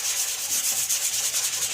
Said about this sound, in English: sanding this stuff down.